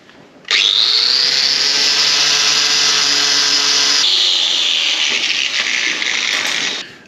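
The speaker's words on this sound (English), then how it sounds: "I'm just going to get in here with a wire brush and give it a bit of a tidy up" A wire brush scrubs a truck trailer hitch, likely power-driven, a loud, steady high whine and rasp that starts abruptly, holds for about six seconds with a slight shift in pitch midway, then cuts off.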